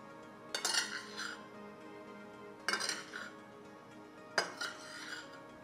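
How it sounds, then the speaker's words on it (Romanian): Raspberries and powdered sugar being stirred in a bowl, heard as three quiet bursts of utensil clinking and scraping against the dish, separated by pauses. "Într-un vas se amestecă zmiura, împreună cu zahărul pudre."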